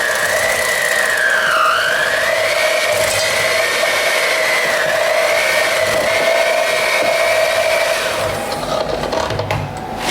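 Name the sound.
electric mixer mixing feta cheesecake batter with lemon juice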